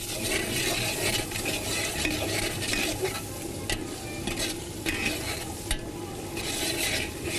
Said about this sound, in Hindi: थोड़ी सी भुनाई करेंगे क्योंकि अदरक लहसुन गया है